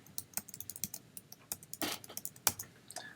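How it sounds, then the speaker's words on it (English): Fingers tap out a password on a computer keyboard in a quick, uneven run of crisp key clicks, close and quiet, with no talking. "I'm gonna type my password."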